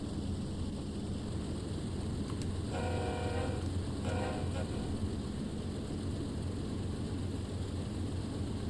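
A Train Sim World 2 locomotive on the Horseshoe Curve route throttles up, a steady low diesel drone with two short bursts of bell-like tones partway through, and no talking.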